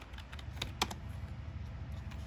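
Keystrokes tapped on a Logitech K480 multi-device Bluetooth keyboard, a quick, faint run of light clicks close by with one sharper press partway through.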